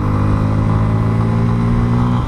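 Bajaj Pulsar F250 motorcycle engine holding a loud, steady rev close by, a continuous low throaty drone with no talking over it.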